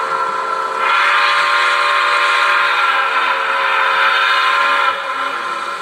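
A chime steam whistle from an ESU LokSound decoder in a Lifelike 080 model locomotive sounds in one long, steady blast with a slight swell, then tapers off, alone and clear.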